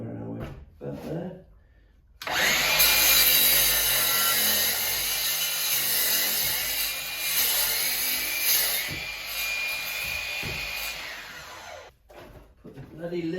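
A drop ceiling tile trimmed with a power tool, a steady loud buzzing cut lasting about ten seconds, framed by brief handling noises and a speaking voice before and after.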